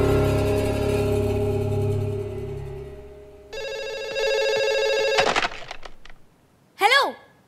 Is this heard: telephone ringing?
yes